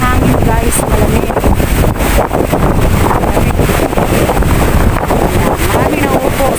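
Cold, strong wind buffets the microphone outside a mall in the Philippines, a loud continuous roar with faint voices mixed underneath.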